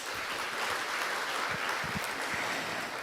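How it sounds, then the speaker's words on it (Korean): Audience applause at a Korean manufacturing AI forum session, a steady wash of clapping heard from a distance, fairly quiet and continuous with no voices over it. "박수 부탁드리겠습니다"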